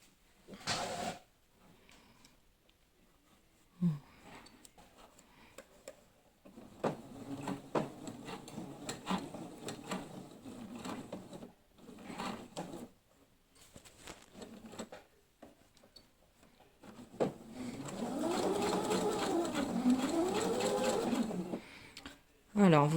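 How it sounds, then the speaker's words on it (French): A sewing machine stitches a hem on a small fabric bag, short whirring runs separated by pauses, ending in a longer steady stretch of stitching, with someone talking over much of it. "c'est parti pour la couture de mon petit ourlet. Sur mon petit sachet."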